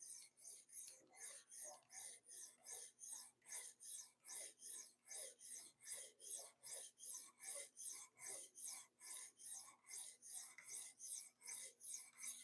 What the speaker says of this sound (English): I'm sharpening the old Ontario Rat Model 2 with the copper scales